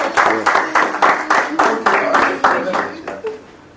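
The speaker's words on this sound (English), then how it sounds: "A round of applause for her, please." Audience applause at an awards summit, fairly loud and close, rhythmic clapping pulses lasting several seconds before tapering off, with some voices mixed in.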